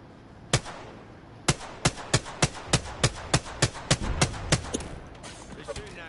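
Video game gunfire: a single sharp shot followed by a steady rapid string of about a dozen evenly spaced loud cracks, then a few fainter scattered shots, with no talk over it.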